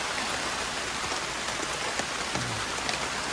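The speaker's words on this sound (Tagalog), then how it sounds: "medyo maulan ngayong umaga" Steady morning rain patters on a tent at a lakeside motocamping site, a soft, even hiss of drops with occasional louder taps and no voices.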